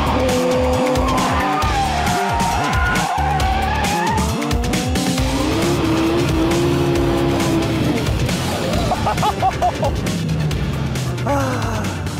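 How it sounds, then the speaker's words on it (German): A G-Power tuned car does a burnout, its rear tires squealing and screeching in long, loud bursts over a roaring engine, with brief voices near the end. "Matthias gibt Rauchzeichen und malt schwarze Striche aufs Parkett."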